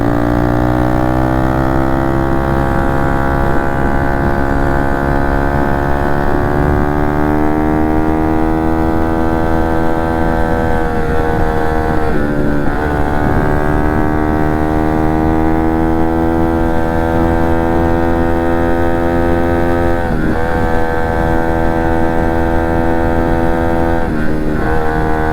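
Motorcycle engine revving up on an open road, a loud, close, steady drone whose pitch climbs smoothly through rising gear sweeps, with brief dips at gear changes and no talk.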